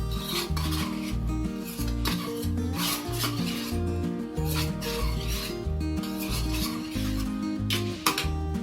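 A spatula scrapes and stirs quail egg pepper fry around a pan with steady rasping strokes, close and continuous, with music playing underneath.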